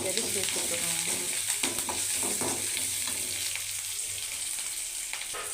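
Dried red chillies, onion and chana dal sauté in a pan for a banana flower stir-fry, giving a continuous sizzling hiss broken by repeated spatula stirs and scrapes, with no talking.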